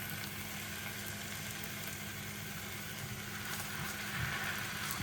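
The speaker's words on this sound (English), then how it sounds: "what we're going to do is put the fish in skin side down" Sea bass fillets sizzle skin side down in a hot pan, a steady broadband frying hiss that holds close and even throughout with no talk.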